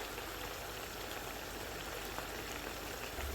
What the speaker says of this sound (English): After mixing that in, I will pour in my single cream.